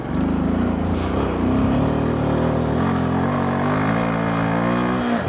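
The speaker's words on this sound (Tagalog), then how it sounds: "Nangatog na yung motor, ayun na umakit." Motorcycle engine droning steadily and loud while climbing a mountain road in the Himalayas at around 16,000 feet, a continuous low rumble with harmonic tones and no breaks.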